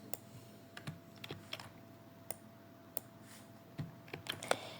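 Keys clatter on a computer keyboard as Python code is typed, quick irregular clicks close up and moderately quiet over a steady low hum.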